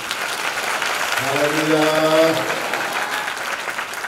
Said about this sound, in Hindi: जोर से ताली बजा दीजिए